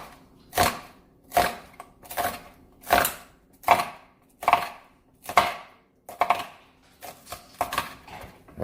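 Knife chopping vegetables on a cutting board for vegetable beef soup: about a dozen crisp, close chops in a steady rhythm, with a brief cluster of quicker cuts near the end and no talk.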